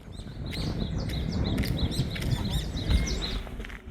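Several birds call in quick, chirping bursts over a low rustling background, fairly close and lively, in dense forest on a trail up to a lighthouse on a remote island.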